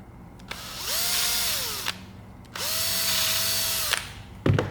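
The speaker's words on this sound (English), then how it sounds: "they do need a little bit of help with an 8mm drill bit here" An 8mm drill bit bores through pin holes in a 3D-printed revolver part, two sustained whining bursts of about 1.5 seconds each with a pause between, close and loud, ending with a brief clunk.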